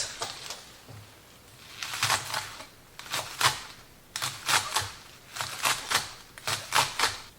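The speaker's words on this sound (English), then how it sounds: "we're gonna cut a bunch of these leeks." A knife chopping through a bunch of leeks on a cutting board, heard as close, crisp cuts that arrive in quick clusters of several strokes, separated by brief pauses, with no one speaking.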